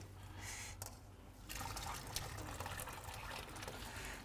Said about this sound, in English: I'm just going to drain the water in this